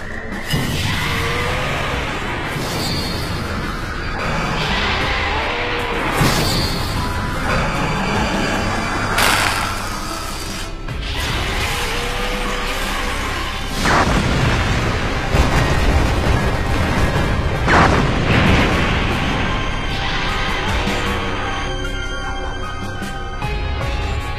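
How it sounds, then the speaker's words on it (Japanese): A monster restraint system firing in a tokusatsu series, heard as a long, loud wash of booming blasts, crashing impacts and rumbling explosions that layer over each other throughout. "怪獣拘束システムを起動 了解発射"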